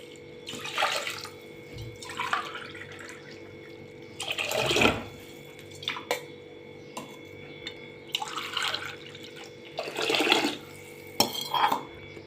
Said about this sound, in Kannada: 4 ಗ್ಲಾಸ್ ನೀರು ತೊಗೊತಾ ಇದ್ದೀನಿ.